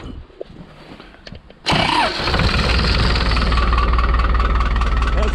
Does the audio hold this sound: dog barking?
no